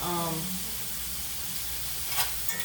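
Potatoes and onions fry in a skillet for a hamburger skillet dish, giving a steady close sizzle with a brief utensil clink near the start and a couple of soft scrapes toward the end.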